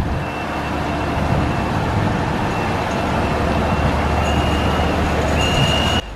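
The first Bangladeshi metro rail coach being hauled by road to the depot in 2021: a loud, steady heavy-vehicle rumble and drone, close and continuous, with a faint high whine near the end.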